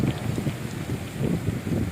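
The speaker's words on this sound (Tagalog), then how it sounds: "Yung sound. Narinig nyo? Yung sound. Hangin yan. Lakas ng hangin dito." Strong wind on a high mountain near the Pawa windmills roars as a dense, steady rush with gusty low-end buffeting against the microphone, loud and unbroken, with no voices.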